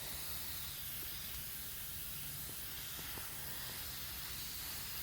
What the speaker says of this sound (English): This is just a nice gentle mist.